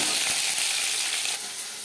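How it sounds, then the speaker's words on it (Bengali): Pieces of foli fish fry in a pan, producing a close, steady hissing sizzle with a few faint crackles that eases slightly toward the end. "মাছ এক পিস ভাজা হয়ে গেলে অপর পিস উল্টে দেবো।"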